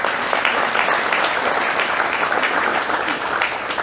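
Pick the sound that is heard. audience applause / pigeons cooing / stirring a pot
audience applause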